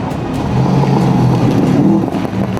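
A Subaru WRX rally car runs hard along a rally stage, its engine droning loud and steady with slight rises and dips in revs, close and continuous throughout with no voices.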